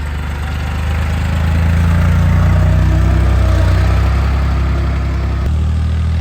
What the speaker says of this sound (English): There goes my brother on his tractor.